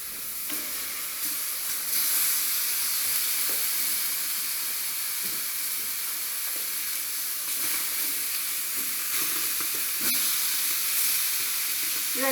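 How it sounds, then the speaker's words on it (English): Sliced tomato roasting in a hot pan, a steady close sizzle and hiss with occasional soft stirring scrapes running throughout. "And now you will roast the sliced tomato"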